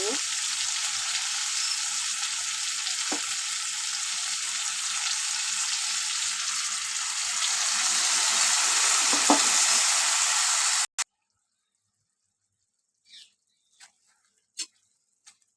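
Pointed gourd (potol) fries in a pan with a dense, steady sizzle that swells slightly before cutting off abruptly, followed by near silence and a few sparse clicks and taps.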